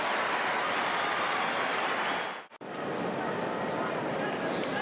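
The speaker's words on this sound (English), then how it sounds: "Listen to that. The home crowd likes it." Home crowd at a St Kilda versus Fremantle Australian football match roaring and cheering, a dense, sustained stadium noise with a commentator's voice over it and a brief cut midway.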